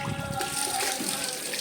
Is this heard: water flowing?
yes